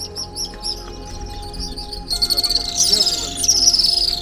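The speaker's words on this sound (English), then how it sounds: "Do you know that these birds migrate," Birds calling in Tanzania, a species said to migrate, with high chirping and whistled notes over a busy background of insect-like trilling; the calls grow louder and denser in the second half, with no speech.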